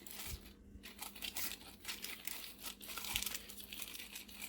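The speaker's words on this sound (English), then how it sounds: "You place it into the plastic bag." Crinkling of a plastic bag being handled up close while wet seed-test paper is placed inside, irregular rustles and crackles continuing throughout, fairly quiet.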